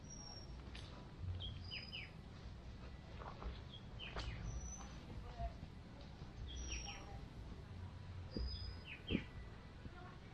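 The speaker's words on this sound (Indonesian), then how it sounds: "Suara-suara burung juga udah mulai ada." Birds singing along a hiking trail on Mount Ungaran, scattered faint chirps and short whistles over a quiet outdoor hush, with soft rustles in between.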